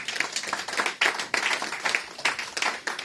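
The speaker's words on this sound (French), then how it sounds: "Acclamez pour la parole de Dieu" A church congregation at a Sunday service claps and applauds together. The clapping is brisk and steady over a few seconds, with no talk over it.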